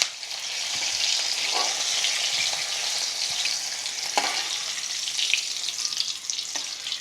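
Okra and onions fry in a pan with a steady, close broadband sizzle, broken by a few soft scrapes and stirring knocks, with no voices.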